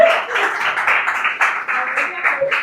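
Congregation applauding during a church service, a dense, steady wash of many hands clapping at close range across the whole stretch, with no clear voices rising above it.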